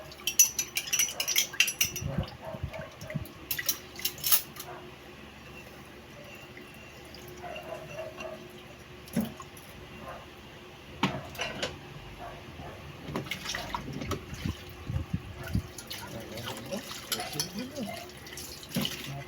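Dishes being washed, with plates and cutlery clinking in bursts and tap water running intermittently, fairly close, with some talking now and then.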